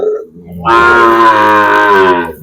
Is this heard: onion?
no